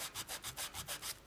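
Rhythmic back-and-forth scrubbing of a sanding block across embossed card, about seven quick strokes in a row, close and fairly faint, with no talk.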